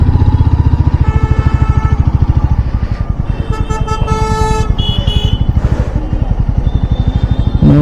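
A motorcycle engine runs steadily throughout on a road trip from Siliguri toward Kolkata, a loud, close, rapid throbbing pulse, with a few vehicle horn toots sounding midway.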